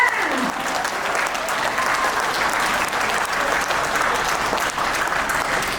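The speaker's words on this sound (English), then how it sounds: "give a 5 seconds of applause for yourself" A corporate training audience of hotel employees applauds themselves, a loud dense burst of many hands clapping at once, sustained steadily for several seconds with a few voices mixed in.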